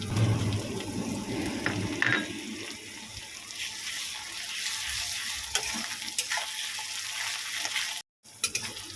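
Crushed garlic frying with onions in oil in a pan for a spicy goat offal kosha, a continuous close sizzle with stirring scrapes and a brief dropout near the end, no voices.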